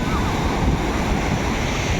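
Gentle sea waves wash steadily onto Patong Beach in Phuket, a continuous surf wash mixed with wind rumble on the microphone, with no talking heard.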